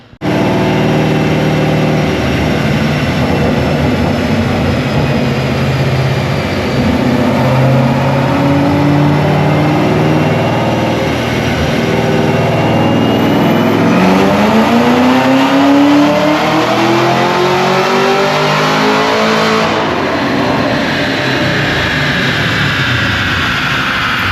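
A 2022 Chevy Camaro ZL1 1LE with a KMS Stage 2 tune makes a full dyno pull: a loud, sustained engine roar climbing steadily in pitch through the gears for about twenty seconds, with no talk over it.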